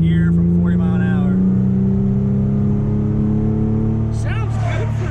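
Honda Accord with a J30 V6 engine and six-speed gearbox pulls hard in second gear from about 40 mph, a steady loud engine drone rising in pitch, with voices talking over it inside the car.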